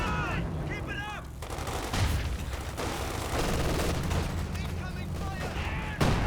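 Sustained gunfire from a Company of Heroes 2 multiplayer battle: dense machine-gun and rifle shots with artillery booms over about six seconds, with a voice talking briefly at the start.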